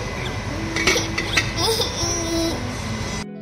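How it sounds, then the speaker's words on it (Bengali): A lid is lifted off a pan of spinach pasta, with a few metallic clinks and scrapes of cookware at close range over a faint background hum, and no voices. "এবার ঢাকনাটা সরিয়ে নিচ্ছি।"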